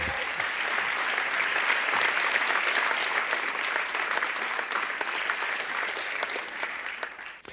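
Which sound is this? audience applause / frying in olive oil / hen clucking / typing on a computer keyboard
audience applause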